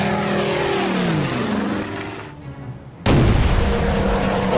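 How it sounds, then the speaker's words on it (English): Torpedo attack in the WW2 naval strategy game Order of Battle: a rumbling, rising engine-like roar fades into a brief hush, then a loud sudden boom of the explosion bursts in and sustains to the end, with no talking. "I can get here and drop my torpedo."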